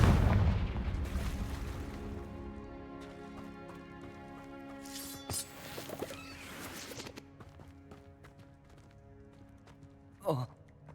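A Confringo fire spell blast in Hogwarts Legacy, with a booming burst early on, softer impacts in the middle and a sharp crack near the end, set against game music.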